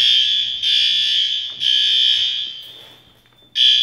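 Fire alarm sounding during a final occupancy test of a museum showroom building, a loud, piercing electronic tone in repeated long blasts with brief dips between, the last one fading before it restarts abruptly.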